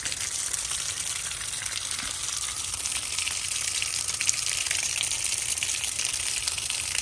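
Water gushes and splashes steadily from an RV water heater drain outlet, a constant close rushing flow without pauses or voices.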